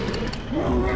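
The T. rex from Jurassic World The Game lets out a short, loud, guttural roar with a rising growling tone, heard at close range.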